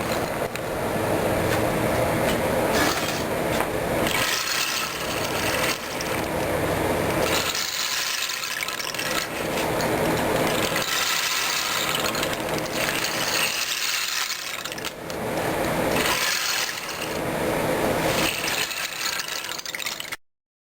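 A handmade gourd rain stick being tipped back and forth, releasing long cascading rattles of small pellets that rise and fade in several slow waves over about twenty seconds, close and alone.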